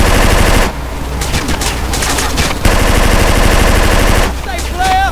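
Rapid automatic gunfire from the video game GTA San Andreas during a gang shootout, loud bursts of repeated shots with short pauses between them, and no talk over it.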